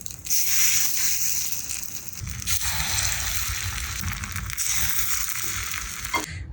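Spoonfuls of rava appe batter dropping into a hot oiled appe pan, a steady loud sizzle and frying crackle with brief soft squishes as each portion goes in, close and continuous.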